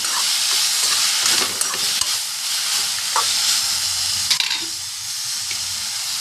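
Onion and tomato sauté in a pan with a steady, close sizzle, broken by a few light scraping stirs and no voices.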